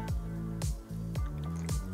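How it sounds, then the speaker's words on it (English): Sodium alginate squeezed from a container and dripped into water from a chemistry set, producing four wet squishing drops at roughly even intervals, each with a quick downward-sliding plop, close and fairly loud. "Let's squeeze and extract some of this sodium alginate, and then we'll just drop some in the water here."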